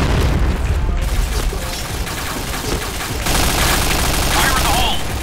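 Grenade blasts and gunfire in the Point Blank shooter game, loud continuous booms and rattling bursts filling the whole stretch with no pauses.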